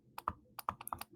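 Quick, light key presses on a calculator, about eight soft clicks in a rapid irregular run, close and quiet.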